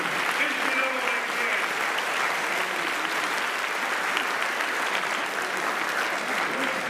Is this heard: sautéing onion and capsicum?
no